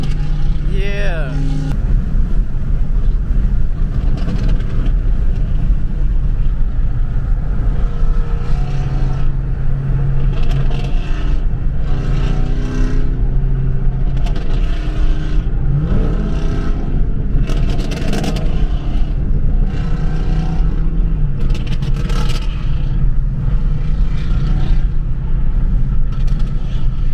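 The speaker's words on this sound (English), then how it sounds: "That car sounds amazing." A Dodge Hellcat engine rumbles loudly while driving at night, a constant deep drone with swells of revving heard from inside the car, and people talk over it.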